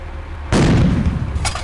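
A loud tank gun shot from the PC tank simulator Panzer Elite lands as a single sudden boom after a quiet half second, then rolls on in a long, broad rumbling tail with a faint crackle near the end.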